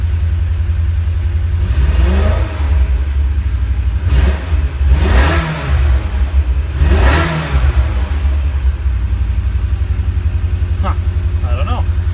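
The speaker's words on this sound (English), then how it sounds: "You hear that little miss, it sounds like it's only running on 7 cylinders right now." Idling and revving V-type engine from a 2002 BMW E46 M3 with a suspected bad plug wire, running unevenly on seven cylinders; steady rough idle with three rising-and-falling blips of throttle, close by and loud, no talk.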